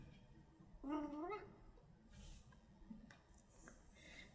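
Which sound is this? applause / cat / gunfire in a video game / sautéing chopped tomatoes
cat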